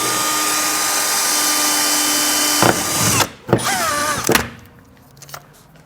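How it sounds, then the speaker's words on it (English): A power drill with a 3/16 bit whines loudly and steadily while drilling out a rivet for a base plate install on a 2019 Jeep Cherokee, then revs in short bursts and stops. "We'll use a 3/16 drill bit to drill out the rivet."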